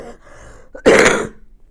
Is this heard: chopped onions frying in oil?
no